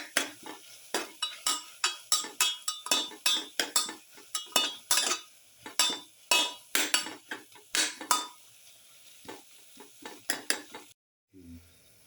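Chicken tossed with spices such as coriander powder and pepper in a hot pan, with repeated sharp scraping clinks of a metal spoon against the pan over a soft sizzle, then a brief pause near the end.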